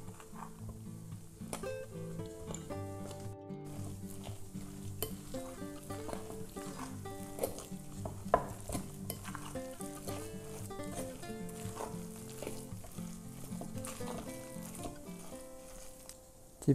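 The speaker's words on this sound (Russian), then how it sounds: "И все хорошо перемешиваем до однородной массы." Zucchini pancake batter with flour is stirred in a bowl, a close, fairly quiet run of wet scraping and sloshing strokes repeating steadily with a few sharper taps of the utensil.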